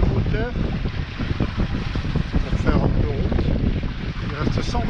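A sailboat motors at sea at about 1500 rpm, a steady low engine drone mixed with rushing water and wind buffeting the microphone, continuous and close.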